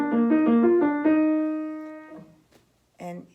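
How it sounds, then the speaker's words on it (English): Solo piano playing a short Beethoven Diabelli variation theme built on a turn figure, a quick stepwise ornamented line of clear close notes ringing out, then a brief pause and one more struck chord. "here is where Beethoven gives us his third musical skeleton, and it's based on the turn"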